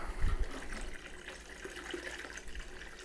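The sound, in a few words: liquid poured into a homebrew fermenter, Kolsch kit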